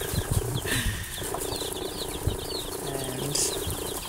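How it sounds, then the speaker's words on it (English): Forty-five baby chicks are herded with a piece of cardboard, with steady scuffling, fluttering wings and soft peeping continuing throughout at close range. "This is how you round up 45 baby chicks."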